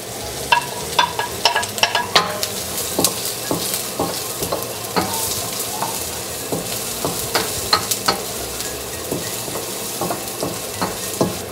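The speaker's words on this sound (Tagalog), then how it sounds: "Tapos, maggisa kayo ng onion." Onion and garlic sauté in a pan with a steady close sizzle, punctuated by repeated sharp clicks and scrapes of a utensil stirring, with no voices.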